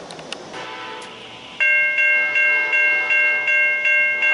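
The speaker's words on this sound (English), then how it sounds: "here comes another train. Amtrak 92, the Silver Star, northbound" An Amtrak Silver Star passenger train, northbound, passes a station, its horn sounding in a steady series of loud, evenly spaced blasts close by after a quieter rumble of rail noise.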